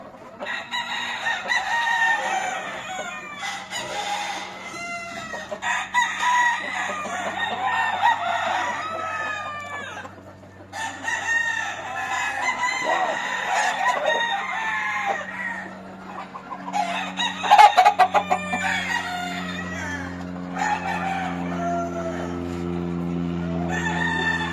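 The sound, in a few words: roosters crowing and clucking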